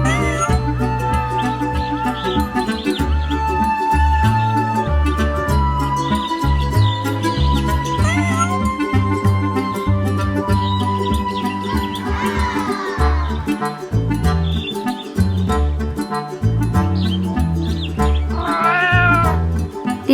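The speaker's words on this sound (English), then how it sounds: "These are our new kittens at the farm." Kittens on a farm meow repeatedly and insistently, their high cries rising over loud, steady background music.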